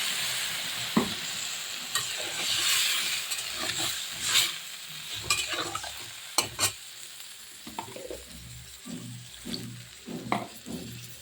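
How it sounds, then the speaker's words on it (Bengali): Fried cauliflower and potato curry with koi fish and added water cooking and being stirred in a pan, bubbling sizzle with repeated clinks and scrapes of a spoon, close and moderately loud. "দেখুন কি সুন্দর ঝোলে জাল হচ্ছে"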